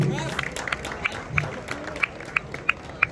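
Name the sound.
applause to encourage friends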